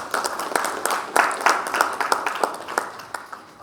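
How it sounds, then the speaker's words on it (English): An audience at a conference closing session applauds the speakers with a steady round of crowd clapping, individual sharp claps standing out near the front, and a voice briefly heard underneath. "A round of applause for all the speakers, please"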